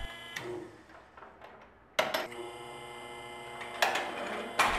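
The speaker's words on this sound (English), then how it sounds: "Loosen the clamp knobs and open the carriage." Clamp knobs loosened and the carriage opened on a McElroy DynaMc 250 fusion machine after fusing Aquatherm PP-R pipe: a few close, sharp metallic clunks and clicks over a faint mechanical hum, with no talking.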